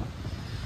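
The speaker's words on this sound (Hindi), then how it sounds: "इतनी ज़्यादा हवा चल रही है ये देखो" Strong wind blows across the beach at Vizag, a steady low rumbling buffet on the microphone with a faint wash of surf beneath, fairly quiet and unbroken.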